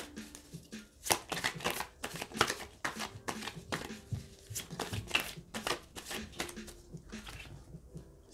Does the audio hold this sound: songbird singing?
no